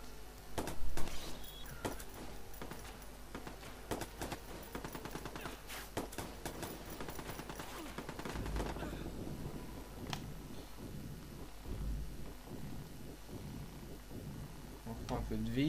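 Gunfire in the video game Watch Dogs, with faint scattered shots and short bursts mixed into game sound and music, while someone talks over it throughout.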